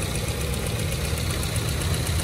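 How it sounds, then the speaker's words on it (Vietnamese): A car engine idles steadily and smoothly up close, its low, even rumble continuous throughout with no voices. "Máy nổ rất êm luôn."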